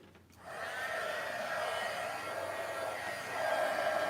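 A heat gun switches on and blows a steady, whooshing hiss while melting embossing powder, close and fairly quiet, its pitch shifting slightly as it moves.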